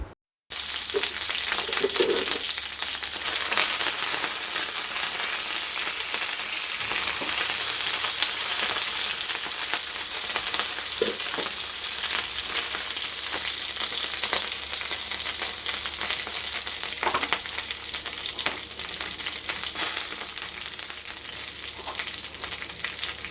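Curry leaves, dried red chillies and cumin sizzling while they dry-roast in a pan, a steady crackle over the whole stretch with occasional stirring scrapes and no talk.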